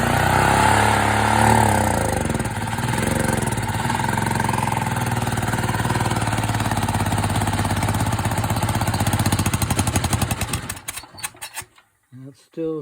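A Predator 4000 generator running with the choke on and no air cleaner, a loud steady engine drone that holds for about ten seconds and then sputters, stumbles and dies out.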